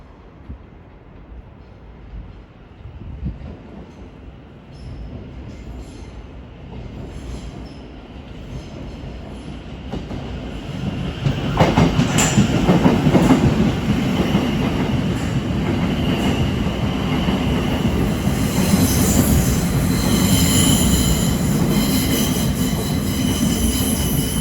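A Thameslink class 700 electric train pulls into London Blackfriars station, its rumble building from faint to loud and close, with wheel squeal and rail noise sustained as it arrives.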